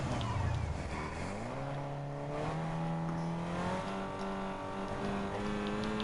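A slow safety car laps a Formula 1 circuit in Fortnite, its engine droning steadily with a rising then level pitch, loud and continuous from start to finish.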